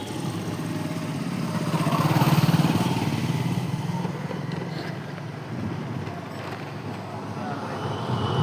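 A scooter engine hums steadily on a ride through town, rising to a louder swell midway and then settling, while someone talks over the motor.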